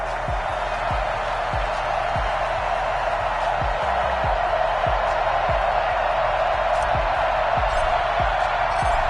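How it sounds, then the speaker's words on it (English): Stadium crowd in an EA Sports NFL football game between the Minnesota Vikings and the Seattle Seahawks, a steady loud roar with regular low thumping beats running underneath throughout. "This crowd is ready as their guys get set to match up"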